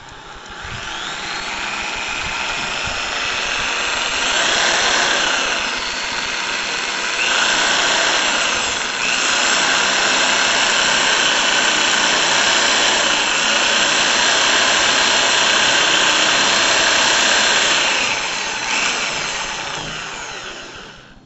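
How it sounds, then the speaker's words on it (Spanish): A small bottle cap is drilled through for a lab thermometer project, giving a steady, loud whirring hiss that runs almost unbroken for about twenty seconds, with slight dips in pitch and level as the bit bites. "lo que vamos a hacer aquí va a ser taladrar la tapita"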